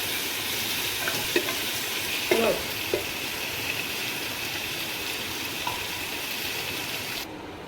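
Onions frying for a tadka in a covered pan give a steady, close sizzle, with a few faint clinks over the hiss and no talking.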